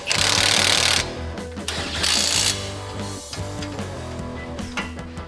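An impact wrench works on the CV axle of a 4x4 in short, loud, rattling hammering bursts broken by brief pauses.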